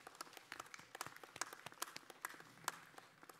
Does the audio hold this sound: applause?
yes